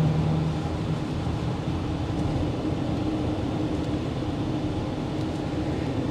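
A 2022 Porsche Cayenne engine pulling hard on the interstate, heard as a steady, muffled drone of engine and road noise from inside the cabin, unbroken throughout.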